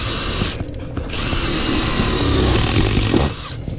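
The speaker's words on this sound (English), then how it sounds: "So we'll drill a hole" Power drill boring a hole through sheet-metal HVAC ductwork before the filter, a loud close continuous whir with rattling grind that shifts pitch as the bit works through.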